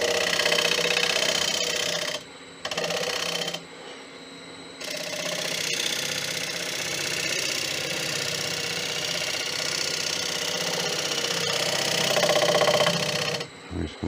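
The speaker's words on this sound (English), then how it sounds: "Side bevel cut here." A woodturning lathe makes a side bevel cut on a punky wood bowl, a steady scraping hiss over the machine's hum, briefly dropping out twice near the start, close and fairly loud.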